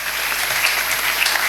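A church congregation claps together in a dense, steady applause that fills the room evenly from start to finish.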